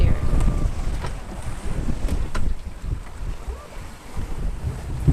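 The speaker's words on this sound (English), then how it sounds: "It wouldn't be so bad if not for these crappy, choppy, steep waves." The sailboat Resolute, on open sea and hand-steered after losing its steering, pitches through choppy, steep waves in strong wind. Gusts buffet the microphone over a constant wash of water and hull noise, with occasional sharp slaps.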